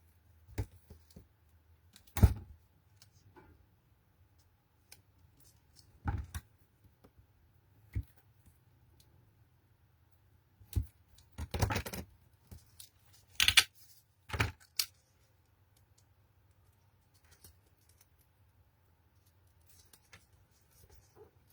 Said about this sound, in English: So I'm just going to cut a bit here and a bit here